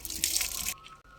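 Green rose apples (chambakka) are rinsed under running water, a loud, close splashing stream that stops abruptly after under a second, leaving a quiet room.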